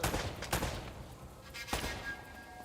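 Gunfire bursts in the shooter game Uncharted: Drake's Fortune, with several sharp reports near the start and another around the midpoint over a steady background din, with no talking.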